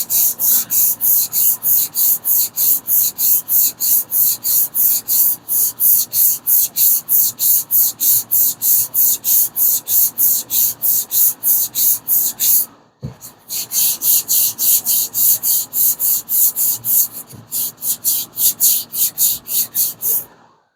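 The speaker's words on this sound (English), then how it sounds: "Probably about 2 weeks of block sanding" Block sanding of epoxy primer on a Plymouth Duster body makes a loud, close, rhythmic rasping scrape, about two to three strokes per second, broken by a short pause midway before the strokes resume.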